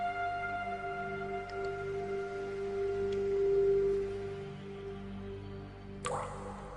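Water drips from stalactites in a cave, a steady tonal hum with a few faint drops and a sharper splash near the end, echoing in a still underground space.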